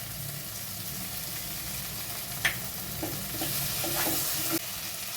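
Whisked yogurt goes into a frying chhana (paneer) curry, producing a close, continuous sizzle with scraping stirs, one sharp metallic clank partway through and a brief louder spitting burst near the end; no one speaks.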